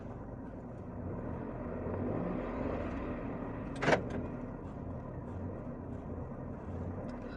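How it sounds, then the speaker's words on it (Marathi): A Maruti Wagon R CNG car idles just after starting, a steady low engine hum throughout, with one brief sharp click or knock in the middle. "याला आपण आता आधी गाडी चालू करूया. गाडी चालू केली आहे."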